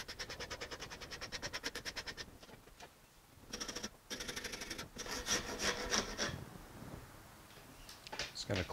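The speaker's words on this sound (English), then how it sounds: "Gonna clean up my rough tool marks here with a finer file." A fine file rasps along the edge of a wooden board bow in rhythmic back-and-forth strokes, close and clear, with short pauses between bursts.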